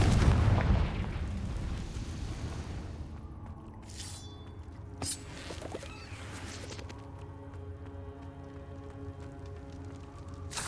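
A blasting-spell explosion in the Hogwarts Legacy video game opens with a loud, deep boom, then fades into rumbling debris and scattered crackling pops as the ambience settles and thins out.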